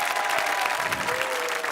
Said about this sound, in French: Mesdames et messieurs, je voudrais qu'on applaudisse